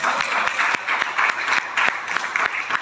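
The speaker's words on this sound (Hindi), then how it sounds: "ताली तो बजाइए।" Dense, loud applause from an audience at a Hindi-language Sunday closing address, steady rapid clapping that fills the whole stretch without pause.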